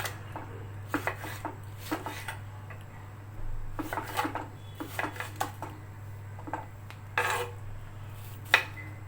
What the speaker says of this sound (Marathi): आता मी हे टोमॅटो पण कापून घेणार आहे